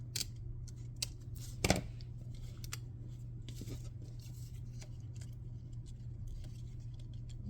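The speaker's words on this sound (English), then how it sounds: "I need to cut off some of this flower." Scissors snip away part of a craft flower in a handful of quiet, sharp clicks spread over several seconds, one snip louder than the rest, over a low steady background hum.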